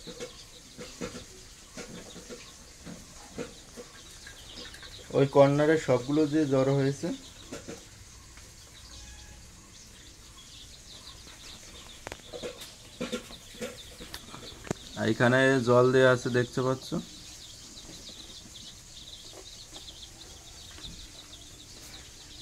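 Eighty Sonali chicken chicks huddled in a lit brooder with water set out. Faint, continuous chirping and clucking runs in the background, while a person talks in two stretches.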